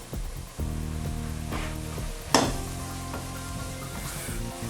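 Vinegar, spice and onion vindaloo paste sizzling in a pressure cooker pot for beef curry; a dense, steady crackling fry starts abruptly, with one sharp clatter midway and no voices.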